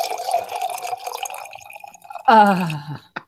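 Vodka poured from a bottle, a thin trickling gurgle followed by a short, bright glugging burst with rising pitch, close up and alone.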